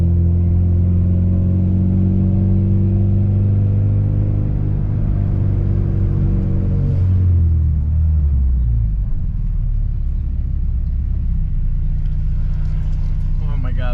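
A car with a swapped Honda K24 engine rumbles loudly while driving, its engine tone winding down mid-clip before a steady low drone resumes; a voice may be faintly present.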